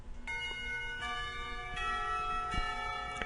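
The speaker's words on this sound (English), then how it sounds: "The bells heralding the end of school make me jump in my seat." Bells ring to mark the end of the school day, sounding as a series of resonant tolls with long ringing overtones, several strikes spaced about a second apart and fairly loud.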